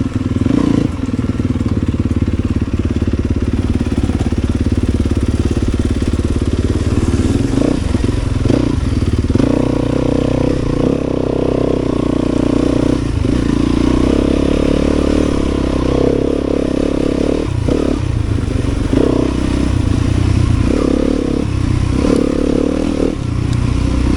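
A trail motorcycle engine running steadily during a fall trail ride, loud and close, with throttle blips rising over a constant rumble and some clatter.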